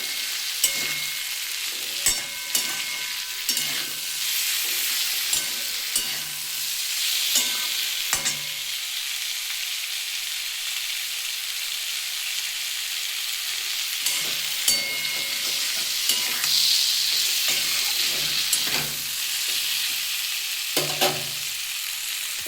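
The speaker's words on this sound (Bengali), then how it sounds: "ফুলকপিগুলো আমি দিয়ে দেবো এখন" Cauliflower stir-fried in a pan while salt is added for a winter potato-cauliflower posto dish: a steady close sizzle runs throughout, broken by repeated scraping stirs, with no talk.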